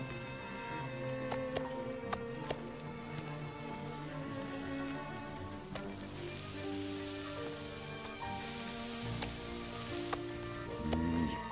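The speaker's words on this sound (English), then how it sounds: "Gotta love that sizzling." Rain sizzles and patters steadily on surfaces in a survival video game, a soft, continuous hiss with scattered sharper drops and no talking.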